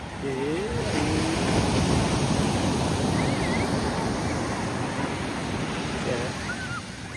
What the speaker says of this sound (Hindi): यहाँ को आवाज़ ज़्यादा है ना पानी की